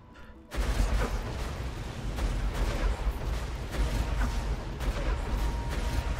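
Rapid, sustained SMG fire in Borderlands 2 Reborn: a dense, loud, continuous burst of shots with no pauses, starting abruptly after a brief quiet moment.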